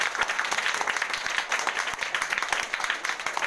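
An audience claps for the Prime Minister at a gathering: dense, steady applause of many hands close by, with sharp individual claps standing out through the wash and no voices over it.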